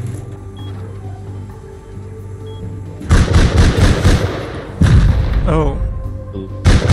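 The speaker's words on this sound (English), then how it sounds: "Shooting turrets." Turrets fire in Rust Console Edition, with loud bursts of rapid gunfire coming in several separate volleys, close and harsh, while a voice briefly exclaims between them.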